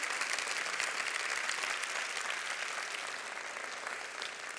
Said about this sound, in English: Can you just give them a big round of applause for what they do in that way for our community?